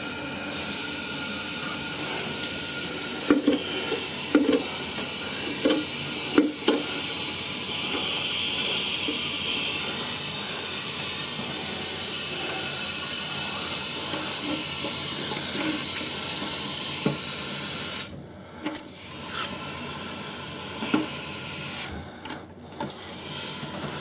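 A Fluidmaster fill valve refills a toilet tank with a steady, close hiss of rushing water for about eighteen seconds, then cuts off abruptly, leaving a few faint knocks and drips.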